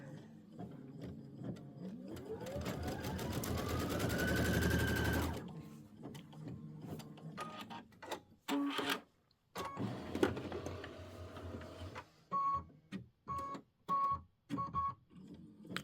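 An embroidery machine stitches a quilt block in a loud, steady whirring burst that rises in pitch, then falls into shorter stop-start bursts of stitching with clicks and brief silences between them.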